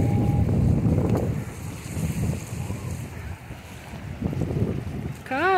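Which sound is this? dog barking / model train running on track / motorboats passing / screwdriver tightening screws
motorboats passing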